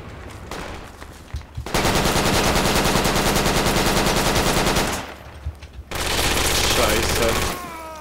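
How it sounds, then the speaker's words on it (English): Automatic gunfire in a video game battle, fired from the hip in two long sustained bursts of rapid shots separated by a short pause, loud and close, with a voice speaking under the shooting. "Shooting from the hip, let's do this."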